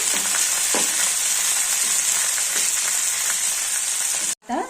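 Curry leaves crackle and sizzle loudly in hot oil during a tempering for capsicum curry, a steady bright frying hiss with occasional sharper pops and stirring, close to the microphone, ending with a brief cutoff.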